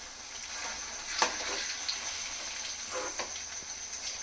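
Mock liver pieces made from amaranth leaves fry in a pan with a soft, steady sizzle, broken by a few faint clinks and stirring scrapes, with no voices.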